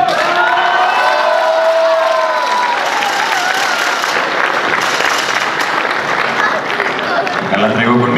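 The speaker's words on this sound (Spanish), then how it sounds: "el aplauso fuerte para el tercer lugar, que se escuche" A beauty pageant crowd in Zacapoaxtla applauds and cheers loudly for the third-place winner, with dense clapping, whoops and a voice talking over the noise.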